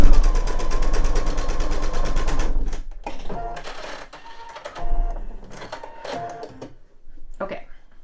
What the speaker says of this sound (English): So one more time over the first row of stitching